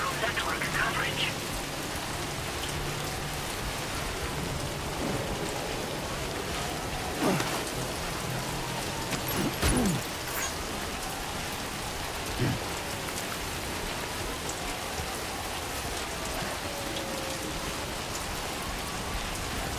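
Steady rain falling in a video game, a dense, even patter and wash of drops on surfaces, moderately quiet and continuous, with a few faint bumps and thuds breaking through.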